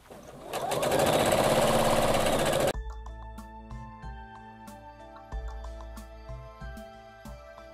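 A sewing machine stitches quilt edge seams on a jelly roll quilt, running in a loud, steady continuous burst for under three seconds before stopping, followed by quieter scattered clicks and handling noises.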